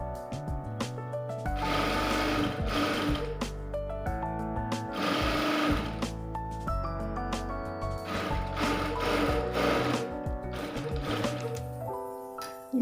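A sewing machine stitches a lined blouse with steady mechanical whirring in several long runs, pausing briefly between them, close and continuous with no talking.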